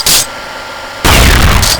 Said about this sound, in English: the shotgun sound even doesn't finish until the pistol shot